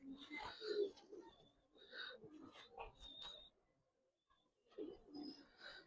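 Pigeons coo in soft, low bursts at close range, several calls separated by brief pauses, quiet overall with faint chirps behind.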